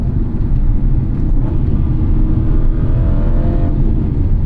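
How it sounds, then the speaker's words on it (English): Engine note of a 2014 Aston Martin V8 Vantage, a steady loud low rumble that holds a constant level throughout, with no voices. "You have this beautiful, glorious engine, the sound, the character, the way that it builds with power and crescendos and the sound as you get close to redline."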